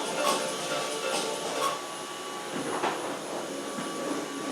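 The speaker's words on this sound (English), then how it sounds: "It's just some vacuuming going on." A vacuum cleaner drones steadily in the background, a faint, continuous broadband hiss with slight surges, no voices over it.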